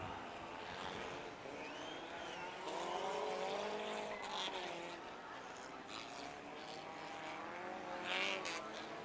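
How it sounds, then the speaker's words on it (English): Demolition derby race cars at the Antelope Valley Fair accelerate off the line, a continuous revving engine roar rising and falling with tire noise, fairly loud and steady throughout. "These cars are launching them pretty good now"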